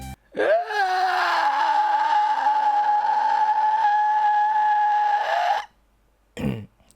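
Human voice imitating a whistling kettle by inhaling through the mouth, a loud, sustained, tonal whistle-like wail of about five seconds that rises at the start, then holds steady, followed by a short breathy burst.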